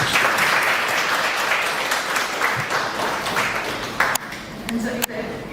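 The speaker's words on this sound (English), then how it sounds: "give a huge round of applause" A large online quantum computing session audience breaks into a steady wash of applause, dense and even for several seconds before thinning out toward the end, with a couple of sharp clicks near the close.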